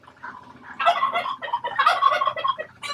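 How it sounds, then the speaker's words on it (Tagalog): A cluster of chickens, including Rhode Island Reds treated for colds, calling close by, overlapping gobbling and clucking cries in bursts, loud and busy without pause. "mga manok na may nabigyan natin ng treatment"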